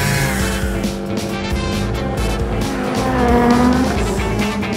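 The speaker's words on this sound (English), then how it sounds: "And I love driving my car." Cartoon car driving: a steady, loud engine drone with a high tire-squeal whine rising toward the end, continuous and close.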